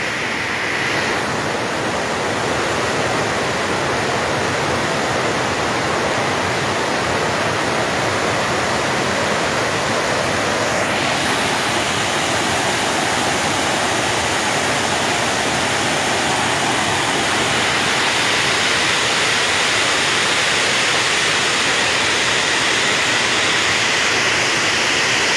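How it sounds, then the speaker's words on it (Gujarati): Water overflows the Aji dam in Rajkot, a constant loud roar of rushing, spilling water that holds steady throughout with no voices. "ઓવરફ્લો થઈ ગયો છે આજી ડેમ."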